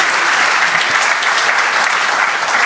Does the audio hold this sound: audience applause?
yes